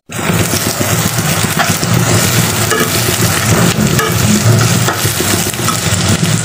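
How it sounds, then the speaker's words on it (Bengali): Chicken pieces and onions frying in a pan for chicken noodles, a steady dense sizzle with occasional stirring scrapes, close and continuous with no talk. "আমার চিকেনটা এবং পেঁয়াজগুলো ভাজা হয়েছে"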